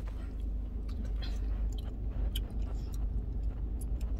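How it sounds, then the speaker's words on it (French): Close, steady gum chewing with soft wet smacks and clicks over a constant low rumble, likely from inside a parked car, with no talking. "Je vais enlever mon chewing-gum après parce que j'ai l'impression d'être une vache qui mâchonne"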